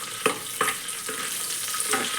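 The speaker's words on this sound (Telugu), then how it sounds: "తాలింపు వేసుకుందాము." Dried chillies, garlic, cumin, mustard seeds and curry leaves sizzle in hot oil in a pot as a tempering for ginger pulusu: a steady close hiss broken by a few sharp spitting crackles, with no talk.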